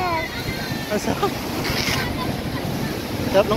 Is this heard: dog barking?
no